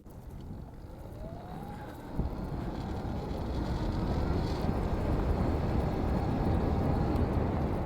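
Distant four-stroke dirt bike engines drone faintly from far off on an open trail, a low rumbling wash with a thin rising whine, heard under steady wind and outdoor noise.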